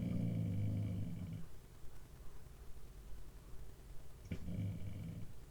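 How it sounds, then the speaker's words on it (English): A dog growls low and steady at close range in a home setting, the rumble fading after a moment and returning briefly near the end, with no clear barks. "can hear another dog barking."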